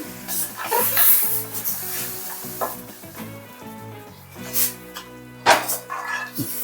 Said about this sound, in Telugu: ఒక నిమిషం పాటు ఒక కొద్దిగా హై ఫ్లేమ్లో ఒక వన్ మినిట్ బాగా వేయించుకోవాలి